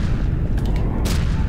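Bombs exploding in the Garry's Mod video game, two short, muffled booming bursts over a rough, rumbling background.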